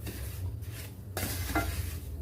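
Dry semolina scrapes and shuffles as it roasts in ghee in a hot pan while a spoon stirs it steadily, with a faint sizzle underneath.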